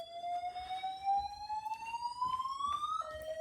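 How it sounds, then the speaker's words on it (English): A building fire alarm sounds indoors, a rising electronic whoop that climbs steadily in pitch and then drops sharply, fairly faint and heard alone. "The fire alarm's going off."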